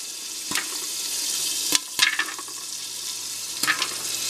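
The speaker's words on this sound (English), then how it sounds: "You can hear it sizzling and the butter's already starting to melt." Popcorn begins popping in melted butter inside a popcorn popper, a few sharp, separate pops breaking over a steady, hissing sizzle, fairly close and with no talking.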